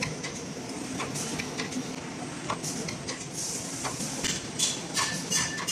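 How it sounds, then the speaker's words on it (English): An automatic blister packing machine forms syringe packs from paper film, giving a steady mechanical whir with regular sharp clicks and clacks, close and continuous. "Now the blister packing machine is working now. This is the forming process."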